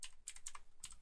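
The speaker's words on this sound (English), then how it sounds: "I'm struggling here with the typing" Keys clacking on a computer keyboard during a Python coding session, a rapid, uneven run of light taps close by with no voice.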